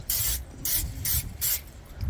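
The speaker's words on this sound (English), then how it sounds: "So you're going to lightly spray it" Three short bursts of oil spray hissing onto a new Pit Boss pellet smoker, evenly spaced with pauses between, close and fairly loud, with a faint mechanical click as the nozzle is pressed.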